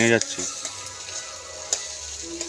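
Onions frying in a pan for a home chicken curry, a soft steady sizzle with a few light stirring clicks after a brief voice at the start.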